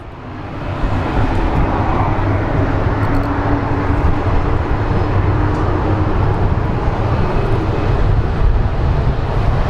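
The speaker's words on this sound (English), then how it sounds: "I believe we are going to get a takeoff." A jet airliner spooling up for takeoff at Phoenix Sky Harbor International Airport, a loud, steady broadband engine roar with a low rumble that holds for the whole stretch.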